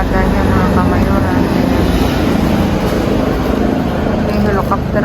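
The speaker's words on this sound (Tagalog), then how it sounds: "May helicopter na naman dito" Loud, steady droning of a helicopter flying overhead at an outdoor dumpster-diving spot, constant throughout with a faint voice nearby.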